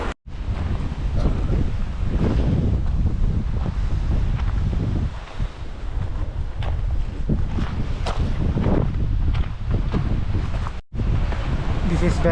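Turgen waterfall in Turgen Gorge near Almaty, Kazakhstan, gives a loud, steady rushing roar of falling water, buffeted by wind on the microphone, with faint voices in the background.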